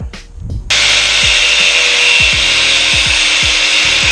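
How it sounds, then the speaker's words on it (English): Close, steady sawing or rasping on plastic radiator ducting of a salvage Tesla, a continuous loud scrape starting after a brief knock, with repeated low thumps of the tool stroking through. "this radiator ducting conflicts with this lower bumper, and I'm gonna have to trim it out"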